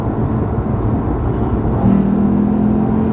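A Lexus RC F two-door coupe engine drones steadily while cruising in third gear, a loud, close, continuous low hum from inside the cabin with a slight rise in pitch partway through.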